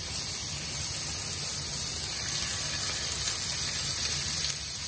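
Monkfish medallions hiss steadily as they are laid one by one into a hot pan, giving an even, close, continuous sizzle with no talking.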